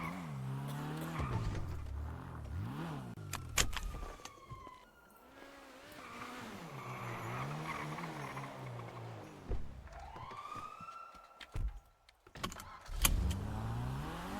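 Engine of a car in a Thai-language role-play driving game, revving and shifting in waves throughout, with tire squeal and skidding bursts near the end; no voices are heard.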